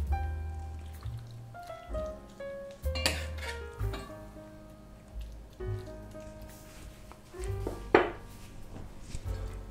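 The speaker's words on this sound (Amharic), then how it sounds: "ይሄ ድስት በጣም ከባድ ስለሆነ በአንድ ለማያዝ ይከብዳል።" A heavy cooking pot clanks and scrapes as it is handled and stirred, giving several distinct metallic knocks and ringing clatters spread unevenly over a fairly quiet kitchen background.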